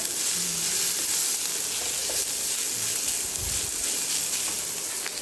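Potatoes and onion frying in a pan as a patty filling, a steady continuous sizzle, close and even throughout, with occasional light stirring sounds.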